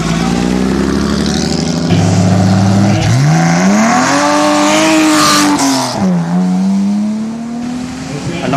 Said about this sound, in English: followed by a beautiful sounding 1958 300 SL Roadster